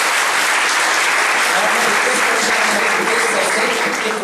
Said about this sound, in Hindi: आप मेरे जरा जोर से तालियां तो बजाइए